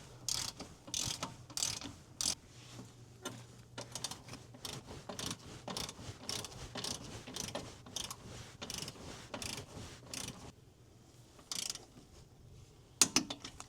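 A hand ratchet tightening bolts on a Yukon suspension leveling kit makes quick, repeated metallic clicking strokes in bursts with brief pauses, fairly close and clear, ending with a few sharper clicks.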